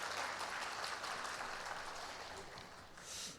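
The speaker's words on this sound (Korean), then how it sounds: "우리 감사와 격려의 박수 부탁드리겠습니다." A church congregation at a Korean Sunday service applauds, a soft, steady patter of many hands clapping that fades toward the end.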